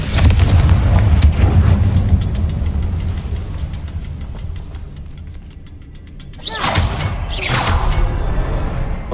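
A Confringo fire spell in a video game sets off explosive blasts: a heavy booming rumble that fades, then two sharp loud bursts near the end, with no talk.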